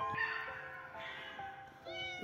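Several cats meow inside a house crowded with dozens of cats, with overlapping drawn-out calls that are close but fairly quiet, and no one speaking.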